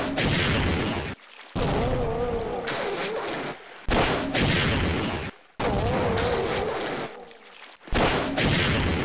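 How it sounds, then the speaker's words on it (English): Rocket launcher fire in the Half-Life video game: four loud blasts, each a sharp boom trailing into a rumbling roar, separated by brief near-silent gaps. "I'm gonna just rocket you in the fucking face."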